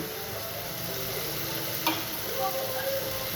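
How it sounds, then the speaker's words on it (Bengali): Sliced potatoes frying in a pan, a steady soft sizzle with faint stirring scrapes and a small clink near the middle, close and continuous. "এই আলুটা এখানে ভাজা হচ্ছে"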